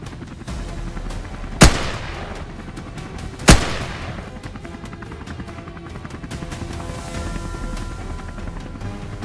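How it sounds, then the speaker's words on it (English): Two sharp, loud rifle shots about two seconds apart, fired by hunters at wild boars in a cornfield, over a steady rotor-like drone from above. "From above, hunters gain a tactical advantage, spotting targets quickly and executing precise shots."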